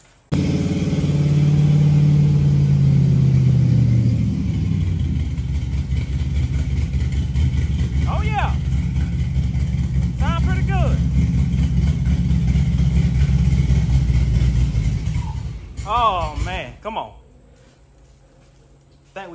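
An engine runs steadily through a cheap $30 Amazon aftermarket muffler, a loud, close, low rumble that drones on and then cuts out near the end, with people talking over it.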